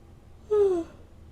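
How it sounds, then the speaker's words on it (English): A single short human yawn, a soft tonal exhale rising and falling for under half a second in a quiet room. "I need to yawn."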